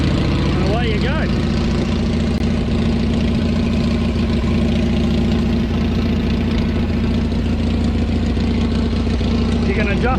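A machine's engine idles steadily with a low, even drone throughout, its throttle worked by a small hand lever; a voice speaks over the running engine.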